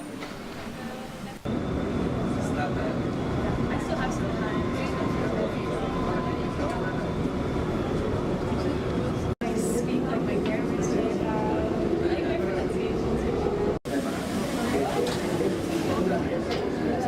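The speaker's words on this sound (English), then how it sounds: "we took the modern metro to the bus station" Inside a modern metro train in Colombia, a steady loud rumble and rolling drone fill the ride, with brief cuts in the sound and some faint talk underneath.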